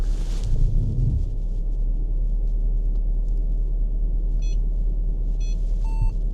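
A Mercedes car reverses under Parktronic park assist, with a steady low interior rumble throughout and a few short electronic beeps near the end. Nobody speaks.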